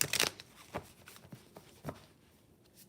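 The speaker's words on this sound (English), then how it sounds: "I just pulled out this deck from my cabinet, so let me just shuffle it more" A tarot card deck being shuffled by hand, a quick riffle at the start followed by several soft, scattered card slaps and rustles, quiet and close.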